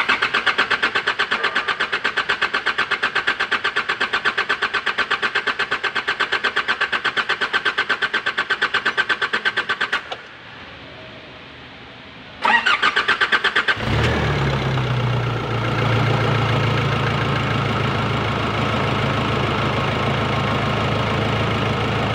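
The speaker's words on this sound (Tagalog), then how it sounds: "Siyempre hindi ganito mag-i-start dahil yung fuel ay atin pang paakit." A Nissan Navara with an unstable, overheating engine cranks with rapid rhythmic starter pulses, pauses, cranks again, then catches and settles into a loud, steady, rough idle close by.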